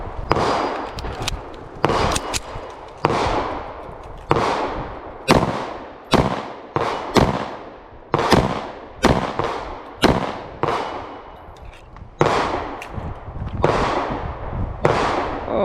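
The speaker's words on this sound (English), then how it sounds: "Our stand-in is a Romanian TTC, but shooting the same ammo and everything." Rapid pistol gunshots from a Romanian TTC, a TT-33 copy firing the same ammunition, outdoors: loud, sharp cracks roughly every second with echoing decay, a steady string of shots and no talking.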